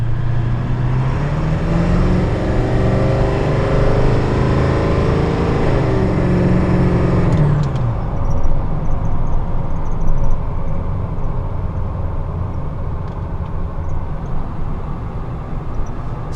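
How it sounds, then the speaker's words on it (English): A Ford F250 7.3 diesel pickup engine runs nearby with a deep, steady rumble whose pitch shifts briefly, then drops to a lower, rougher idle for the rest. "Truck starts right up, zero issues, no smoke."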